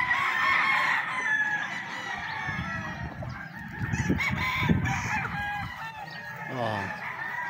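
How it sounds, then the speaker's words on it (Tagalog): Chickens and roosters inside a crowded chicken coop cluck steadily, with a rooster crowing clearly near the end over the busy flock chatter. "Yayamanin na mga manok."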